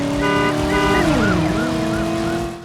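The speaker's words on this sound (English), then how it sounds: "and most importantly, a car horn" A car horn sounds in the PlayStation driving game Driver, brief repeated honks over a loud wailing siren-like tone that sweeps down and back up, all in a busy game engine mix.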